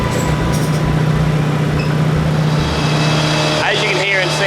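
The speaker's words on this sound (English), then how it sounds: "you can hear and see, the S13 is down to dyno now" A Nissan S13 Silvia with an SR20 engine runs on a dyno, a loud, steady engine drone filling the whole stretch with a brief rise in pitch near the end.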